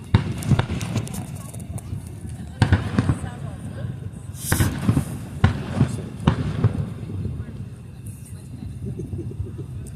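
Independence Day fireworks over the Potomac in Washington DC, a string of booming bursts and crackles at irregular intervals, some loud and close together, with people talking in the crowd throughout.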